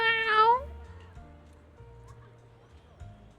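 A cat meows in the video game Zenless Zone Zero: one short, bright meow at the start, then only quiet game ambience.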